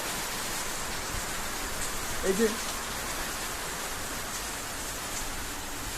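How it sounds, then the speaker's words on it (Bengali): Rain falling on the tin roof of a house in Dhaka during the rainy season, a dense, even hiss that continues throughout, with a brief spoken voice near the middle. "এ হচ্ছে ঢাকা শহরে বৃষ্টির সিজনের মজা, বিশেষ করে টিনের ঘরে"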